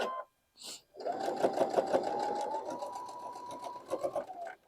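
A sewing machine stitches a quilt block seam for the Carpenter's Star pattern, its rapid buzzing run lasting several seconds after a couple of short clicks and a brief rustle, close and steady, ending with a few quick stitches.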